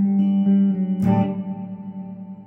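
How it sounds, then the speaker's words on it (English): Gibson SG electric guitar through a CXM 1978 on its hall reverb setting: a held chord, one bright strum near the middle, then a long spacious wash that slowly fades, alone and moderately loud. "And here's the hall version of the sound."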